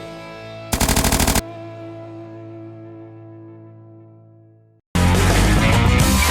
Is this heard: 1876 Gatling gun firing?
yes